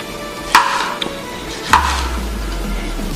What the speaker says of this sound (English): we're going to go ahead and cut up our 2 large tomatoes